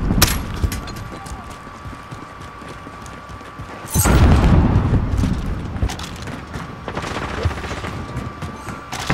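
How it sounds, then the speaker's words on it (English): A grenade goes off in Call of Duty Modern Warfare, a single loud boom around the midpoint that rolls into a rumbling tail, set amid scattered game gunfire and mechanical noises. "Grenade out!"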